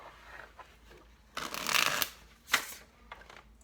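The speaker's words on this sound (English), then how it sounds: "This will be our last shuffle." Close, quiet shuffling of tarot cards: a long riffling burst, then a short sharp flick, with softer handling sounds before and after.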